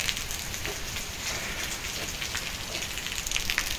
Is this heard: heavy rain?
yes